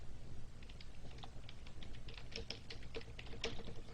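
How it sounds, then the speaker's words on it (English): Someone types an email address on a computer keyboard, a quiet, irregular run of close key clicks over a faint background hum. "So now I type the address, my email address"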